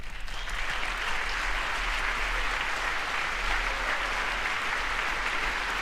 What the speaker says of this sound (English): That feels like a softer clap than maybe some of the other things.